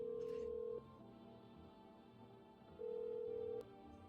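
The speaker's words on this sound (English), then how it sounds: "Oh, I have to dial it." A telephone in a video game gives two long, steady tones separated by a short quiet gap as a call is dialed, heard close and clear.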